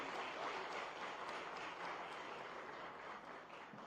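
An audience at a company MoU signing ceremony in Gandhinagar applauding, a soft, steady wash of many hands clapping at a distance, fairly faint and unbroken for several seconds.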